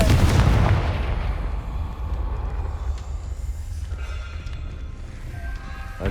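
A Confringo fire-blast spell explodes in Hogwarts Legacy, one heavy booming blast up front whose rumble lingers and rolls on for several seconds with scattered crackling debris.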